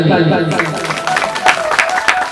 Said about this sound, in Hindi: बहुत सुंदर, बजाइए ताली।